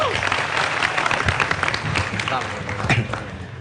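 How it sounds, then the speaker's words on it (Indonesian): Audience applause for Bang Hariman at a Halal Bihalal gathering in Surabaya, a steady wash of clapping from a seated crowd lasting the full stretch, with voices murmuring and talking underneath. "Tepuk tangan untuk Bang Hariman, silakan."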